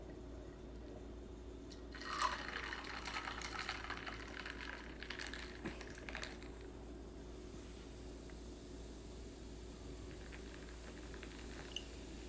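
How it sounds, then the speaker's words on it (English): Beer poured into a michelada glass: a soft liquid pour and fizzing hiss rises after a quiet start and trails off over several seconds, faint and close, with no talk. "And now I'm going to add beer in."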